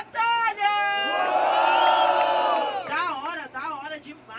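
A battle rap crowd roars together in a loud, sustained collective shout and whoop, swelling for a couple of seconds before breaking into scattered yells and chatter.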